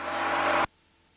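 Diamond Katana DA20 A1 light aircraft engine roaring steadily at takeoff power, loud and close, then cutting off abruptly partway through.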